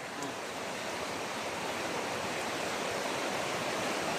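Strong floodwater rushes past a flooded house in a steady, dense roar like a waterfall, continuous and unbroken with no voices over it.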